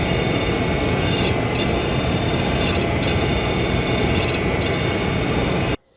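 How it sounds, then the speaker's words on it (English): A brazed carbide-tipped turning tool is ground on its cutting edge, giving a loud, continuous, close rasping grind with a few brief dips before it stops sharply. "I will be grinding off the cutting edge"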